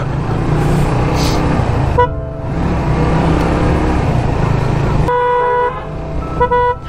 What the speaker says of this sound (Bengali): আমার হর্নের মানে একটা হর্ন বাজতেছে